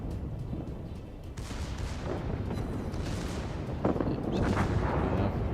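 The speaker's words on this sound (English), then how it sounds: "You can see secondaries have already opened up, get shots out" Naval gunfire in World of Warships, repeated deep booming artillery blasts and rumbling salvos, loud and layered, occurring several times over a dense battle background.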